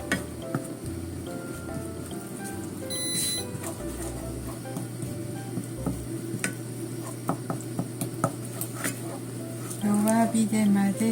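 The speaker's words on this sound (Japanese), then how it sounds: "そしてこれを弱火で混ぜますね。" Miso and a little sugar stirred in a pan over low heat, a soft scraping stir with faint sizzle running steadily under a speaking voice, with brief clinks along the way.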